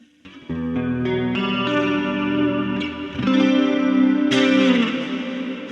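Electric guitar runs through a Quad Cortex preset blending cabinet and direct amp-head signal equally, giving sustained chorus-tinged, slightly distorted chords and notes with a chord change midway, close and steady with no talking.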